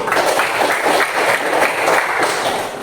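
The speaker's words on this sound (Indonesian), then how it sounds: "Tepuk tangan untuk Lucy" A classroom of students applauds for a classmate named Lucy, a dense, steady patter of many hands clapping close by for about three seconds with no talking over it.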